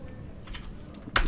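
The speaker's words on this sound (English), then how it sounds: "by typing this command" A computer keyboard clicks through a few quick keystrokes as a command is typed, finishing with a firmer tap, faint and close against quiet room noise.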